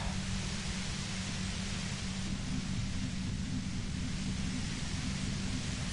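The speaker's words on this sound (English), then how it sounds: "You hear through the white noise. It's especially bad suddenly." Steady broadband white-noise static from a video game fills the scene at an even, moderate level, a constant hiss with a low rumbling band beneath it and no talk over it.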